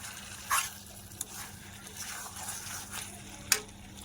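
Fried potatoes go into a pan of sizzling chicken kosha, a soft steady sizzle broken by a few sharp clinks and scrapes as they are stirred in, with no voices.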